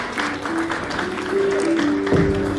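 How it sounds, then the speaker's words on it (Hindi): Steady applause from an audience at an award ceremony in a Patna hotel, moderately loud and building slightly, with faint voices and a tonal hum underneath. "जोरदार तालियों से स्वागत करें डॉक्टर किशोर का"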